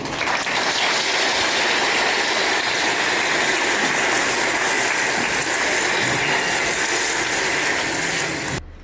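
An audience applauds at a ceremony celebrating a company's twentieth anniversary, a dense, loud, sustained wash of many clapping hands that continues steadily for several seconds before cutting off.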